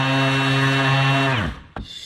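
A Bosch GEX18V-5 18V cordless sander runs with a steady, close, tonal motor whine that abruptly spins down to a stop, followed by a single soft clack.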